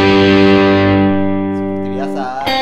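Fender Big Block Stratocaster, Mexican-made 60th anniversary model, on its middle pickup with crunchy overdrive: a sustained distorted chord rings loud and close, slowly fading before a fresh strum near the end.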